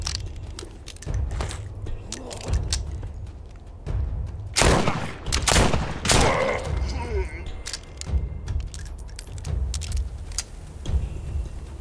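Bomb blast in the VR zombie game The Walking Dead: Saints & Sinners, with several heavy bursts and crackling debris in the middle, amid scattered clatter and a person talking.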